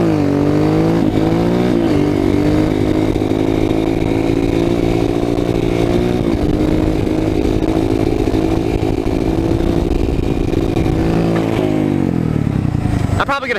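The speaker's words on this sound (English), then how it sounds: "This kid over here just asked me to do a wheelie." Motorcycle engine revving hard and holding high through a wheelie, a loud, steady, close roar that rises in pitch and eases off near the end.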